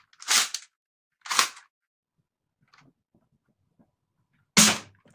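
Airsoft gun shots, including a dry fire, heard as three sharp close snapping bursts with quiet gaps between them and a few faint clicks in the pauses.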